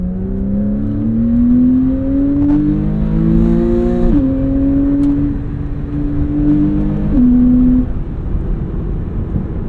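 Loud, close engine note from a 2014 Porsche 911 Carrera S climbing in pitch, with a couple of quick shifts between surges of acceleration and no talking.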